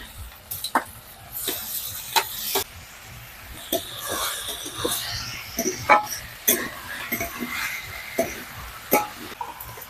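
Mashed eggplant and Kashmiri chilli go into a frying pan, followed by a soft sizzle and scattered sharp spatula scrapes and clicks of stirring, close and fairly quiet.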